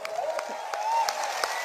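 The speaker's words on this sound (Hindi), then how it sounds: "ताली बजाओ" An audience applauding at a wellness company's speech event, a steady mass of clapping under a continuous low tone, with a voice speaking over it.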